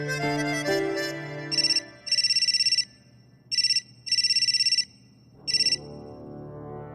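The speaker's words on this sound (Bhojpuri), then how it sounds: "केकर फोन रहे?" A phone ringtone rings in short repeated electronic bursts, five clusters of bright tones with pauses between them, loud and close over a quiet room.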